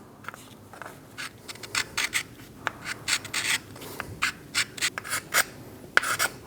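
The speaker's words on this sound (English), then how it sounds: "Using a scraper, we're going to clean the mating surface of our thermostat housing snout." A hand scraper works corrosion off the aluminium mating surface of a thermostat housing snout on a 2005-2009 Subaru Legacy engine, giving a run of short, close rasping strokes in an irregular rhythm that grows denser, with no voices.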